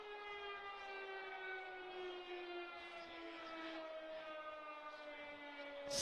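A goal siren sounds at a college men's soccer match: a steady, droning horn tone that holds for several seconds, faint and distant with no talk over it.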